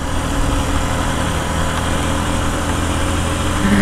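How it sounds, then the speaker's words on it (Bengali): A new engine on a Honda XL motorcycle runs at a steady idle, a continuous close, even low rumble that holds at the same loudness throughout with no talking. "আমার কাছে নতুন ইঞ্জিনের সাউন্ডটাও খারাপ লাগে না"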